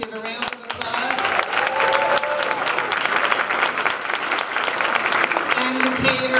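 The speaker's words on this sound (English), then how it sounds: "Give a round of applause." Guests at a St. Patrick's Day celebration dinner applaud the servers, steady dense clapping from a crowd throughout, with a voice speaking over it at the start and some tonal sounds mixed in.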